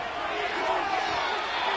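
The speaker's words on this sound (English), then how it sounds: "The crowd making their presence felt." A stadium crowd roars steadily throughout a Dallas Cowboys versus Washington Commanders football video game, a dense, continuous wash of cheering and noise with no clear breaks.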